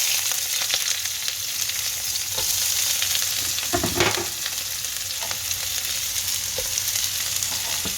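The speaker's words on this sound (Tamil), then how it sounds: "இந்த கருவேப்பங்களையும் போடுவோம் போட்டுட்டு வெங்காயத்தை போடுவோம்" Onions go into hot oil with mustard seeds, fennel and curry leaves for a potato bonda filling. The oil sizzles loudly and steadily, with a brief stirring clatter midway and no talk.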